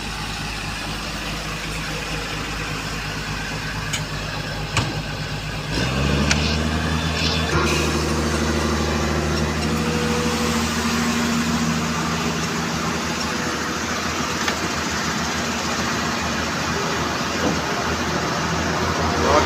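A stopped truck's engine idles with a steady low rumble while river sand is loaded. Partway through, the engine note deepens and grows louder, then holds a constant drone to the end.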